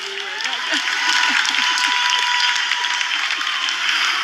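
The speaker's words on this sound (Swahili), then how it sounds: "Pigie msali makofi." Congregation clapping in a church, a dense steady patter of many hands with a few distinct low claps, loud and continuous throughout with faint voices mixed in.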